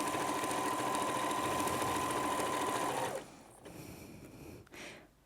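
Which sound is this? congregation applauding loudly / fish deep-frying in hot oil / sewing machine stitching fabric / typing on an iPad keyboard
sewing machine stitching fabric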